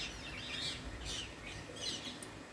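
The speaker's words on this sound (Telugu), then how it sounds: "చాలా చిలుకలు వచ్చినాయి ఈరోజు ఇటు సైడ్." Wild parrots gathered near a college building and perched on a window ledge, giving faint, distant chirps in scattered bursts over a steady outdoor background hum.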